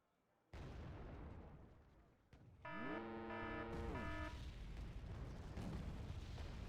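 Artillery bombardment in Wargame Red Dragon, a steady rumbling barrage of distant blasts with a sustained roar, while a synthesized alert tone sweeps through midway.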